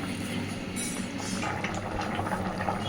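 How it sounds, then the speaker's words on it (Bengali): Thin Bengali fish curry with taro simmering in a pot, a steady close bubbling and hissing boil with faint clinks, no talking. "মাছগুলো দিয়ে আরো খানিকক্ষণ একটু ফুটিয়ে নেব।"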